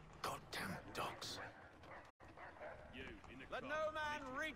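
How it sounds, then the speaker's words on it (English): Dogs bark and yip in the Assassin's Creed 3 video game, sharp repeated barks mixed with a whimpering, wavering whine near the end, with game voices and battle noise around them. "Goddamn dogs."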